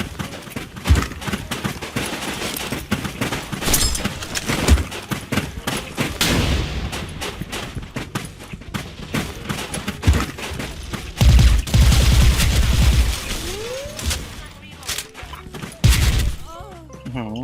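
Suppressed M4A1 rifle with ACOG sight, Lightning Gold FX skin, fired in the online shooter Special Force 2: rapid bursts of muffled game gunfire with impacts and effects, loud and dense, with a voice talking in places.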